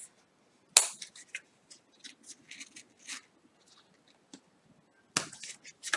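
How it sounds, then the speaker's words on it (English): Scissors snipping and pulling at paper lashes stuck with hot glue, scattered crisp clicks and small rustles close by, a sharp snap near the start and another burst of crackly handling near the end, no talking. "Let me grab the other scissors and pull this off."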